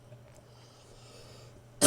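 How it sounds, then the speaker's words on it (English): A single short, loud cough bursts out at the very end after near silence with faint background hum, as if from someone about to talk. "Hopefully I'm not going to start coughing now that I'm talking."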